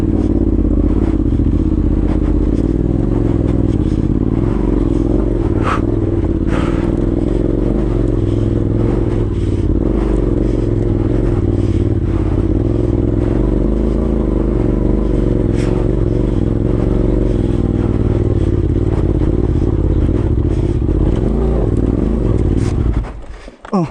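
A motorcycle climbs a steep, loose dirt trail at Tacadang, its engine loud and labouring with rattling clatter throughout. The engine cuts out abruptly at the very end.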